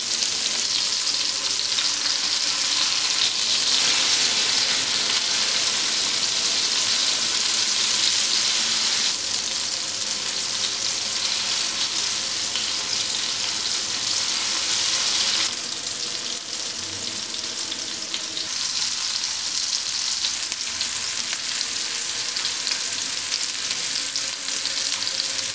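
Fish pieces frying in oil for Kerala fish pickle give a dense, steady crackling sizzle close up, continuous and fairly loud with slight swells, no voices.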